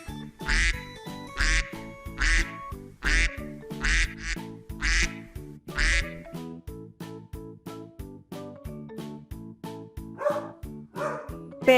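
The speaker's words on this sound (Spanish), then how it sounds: "Pato." Repeated duck quacks in a rhythmic series over a steady musical backing, loud and close, with a few more broken calls near the end.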